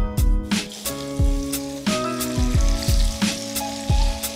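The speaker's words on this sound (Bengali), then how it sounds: "এখন একে একে ভাজা নিব" Paneer pieces fry in hot oil in a kadai, a loud crackling sizzle punctuated by regular sharp clinks of a utensil against the pan, roughly every half second, over faint background music.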